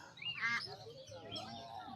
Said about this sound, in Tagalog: Gansa, Gansa.